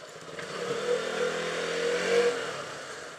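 KTM Duke 200 motorcycle ridden through Kathmandu streets, its engine droning and revving steadily up close with a mid-pitched hum swelling and easing over a few seconds.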